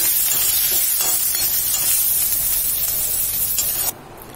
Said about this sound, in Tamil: இந்த அளவுக்கு நல்லா வதக்கி எடுத்துக்கோங்க கருவேப்பிலையும்